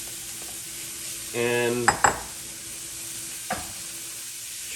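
Ham being added to cooked-down vegetables in a pot for chowder: a burst of loud sizzling, then a couple of sharp utensil scrapes and a later tap, with a steady background hiss.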